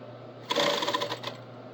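A sewing machine stitching an apron, one quick burst of rapid mechanical stitching of about a second over a faint steady hum, close and fairly quiet.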